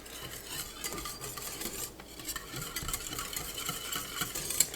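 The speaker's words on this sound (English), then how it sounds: "The trick is to consistently whisk it and not let it sit." Whisking a casserole sauce in a pot, the whisk scraping and rattling steadily against the metal in close, continuous strokes with no talk.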